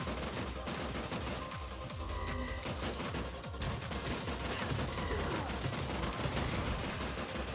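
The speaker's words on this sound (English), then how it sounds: "Just keep shooting, just keep shooting." Sustained, dense gunfire in the Terminator 2D: NO FATE video game, a continuous rattling barrage with loud impacts and mechanical clatter running throughout at high volume, with no speech over it.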